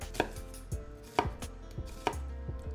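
A kitchen knife cuts through an onion onto a wooden cutting board in four distinct, evenly spaced chops, each a sharp close knock, with quiet gaps between them.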